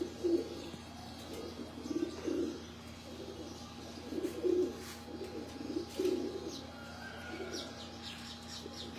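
Domestic pigeons on a Lahore rooftop loft coo in a steady series of soft, repeated low calls, fairly close, with faint chirps and a continuous background hum.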